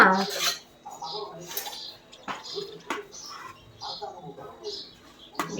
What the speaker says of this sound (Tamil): அதை குட்டி குட்டி பீஸாக கட் பண்ணிக்கலாமா